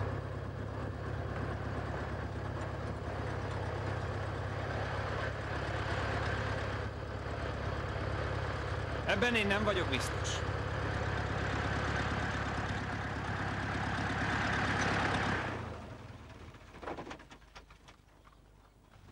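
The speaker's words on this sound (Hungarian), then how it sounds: "Ne állítsd le a motort" A car engine idles steadily at low volume for about fifteen seconds before cutting off, with a brief voice and a few faint higher sounds over the hum.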